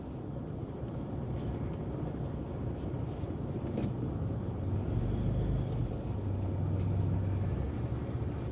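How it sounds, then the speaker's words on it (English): A car creeps slowly through a tight space with the driver's foot off the gas, giving a low, steady hum of idling engine and tire rumble with a few faint clicks on top. "just lift your foot off. The car will roll up real easy."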